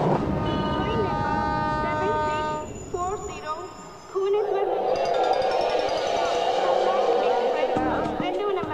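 A train travels in a movie scene. A steady rumble and rush of rail noise runs throughout and turns louder and denser in the second half, with a tonal horn-like layer early on and voices speaking over it.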